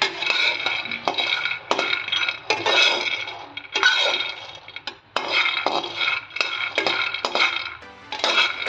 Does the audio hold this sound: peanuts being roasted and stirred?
yes